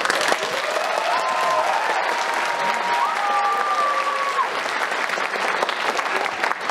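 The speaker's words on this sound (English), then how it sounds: "let's hear thunderous applause when the plane lands" Thunderous applause from a school jazz night audience, a dense, steady roar of clapping and cheering sustained throughout, with a faint sliding whistle-like tone riding over the crowd.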